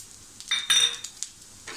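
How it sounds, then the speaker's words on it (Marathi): Sesame seeds hit a pan over low heat alongside grated coconut for a stuffed brinjal masala, giving a quick crackling sizzle with a few short stirring scrapes, close and brief. "आता आपल्याला हे थोडेसे तीळ टाकायचे"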